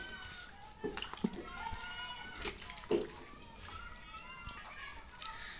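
Peeled bottle gourd pieces are rubbed and rinsed in water for a home lau ghonto dish, giving soft, quiet sloshing and a few light splashes and knocks.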